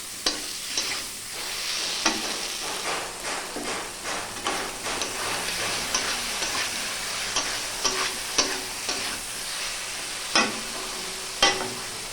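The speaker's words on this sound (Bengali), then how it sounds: "ভালো করে আমি মশলা কষে নিলাম" Spice masala being sautéed and stirred in a pan for a pointed gourd and prawn curry, with a continuous sizzle and repeated scraping strokes of a spatula, punctuated by occasional sharper knocks.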